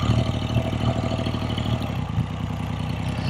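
A 1975 Triumph Trident T160 three-cylinder motorcycle runs close by with a steady, buzzing idle and faint rhythmic pulsing, slight throttle swells, no speech.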